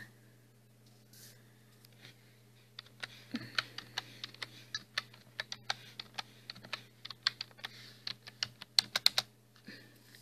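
Keys tapped on a computer keyboard while a password is typed in, a steady run of soft, close clicks that quicken and grow sharper toward the end, with no talking.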